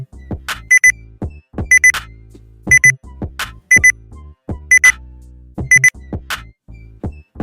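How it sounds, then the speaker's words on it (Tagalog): A drawing timer goes off when finished, sounding a repeated electronic alarm-clock pattern: short bursts of high beeps recurring roughly every second, fairly loud and close, with no talking over it. "So, yung beeping na yun, yun yung tapos ng timer."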